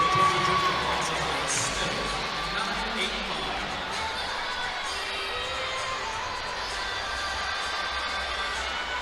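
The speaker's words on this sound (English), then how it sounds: "The crowd has been buzzing all night here inside the PMAC." A large crowd buzzes at a women's college gymnastics meet between LSU and Georgia inside an arena, a steady din of chatter with scattered cheers and shouts throughout.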